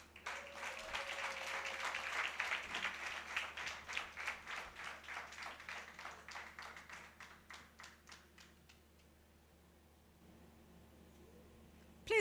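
A live charity-event audience claps for a guest walking up to the stage. The dense applause starts loud, then thins into scattered individual claps and fades to near silence.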